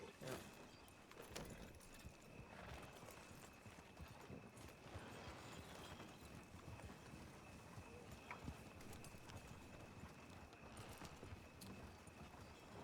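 Horse hooves clip-clopping at a steady walking rhythm in a Red Dead Redemption 2 roleplay, a continuous moderate patter with faint talk underneath.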